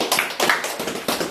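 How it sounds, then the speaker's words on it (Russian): A small group at a fight club training session claps briefly, a few sharp, close hand claps in an uneven, sparse burst. "Молодцы, аплодисменты!"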